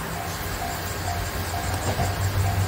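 The Nanohana-go train passes the Nigenchaya level crossing in Kagoshima, a steady rail rumble with a low hum and faint clatter, moderately loud and continuous throughout with no voices.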